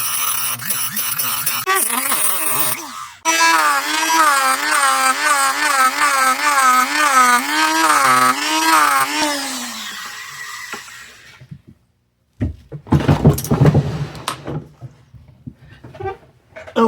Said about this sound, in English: It took 10 minutes or so on that Dremel cutting wheel, but it came off.